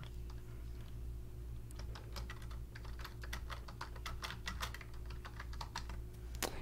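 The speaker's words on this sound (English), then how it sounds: "You'll type in something." Fast, irregular typing on a computer keyboard, close and fairly quiet, a steady run of crisp key clicks over a low hum.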